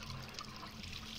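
Hot water running steadily in Rick and Morty VR, a faint continuous splashing stream with no breaks.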